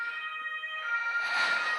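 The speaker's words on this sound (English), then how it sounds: "One ambulance." An ambulance siren wails steadily in the distance and grows louder as it passes by, heard faintly from indoors with no talk over it.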